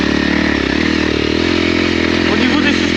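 A loud, fuel-injected Honda CRF300L motorcycle engine revs close by, its throaty, pulsing roar climbing in pitch, with a voice talking over it.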